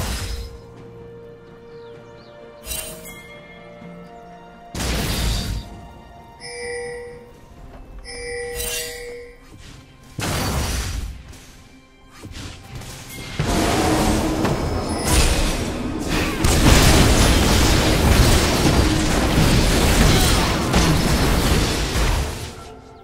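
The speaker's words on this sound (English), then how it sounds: "Blue team's turret has been destroyed." A turret is destroyed in League of Legends, a Ryze top versus Pantheon match on patch 5.24, with booming bursts, chiming tones and layered game effects building into a sustained loud roar.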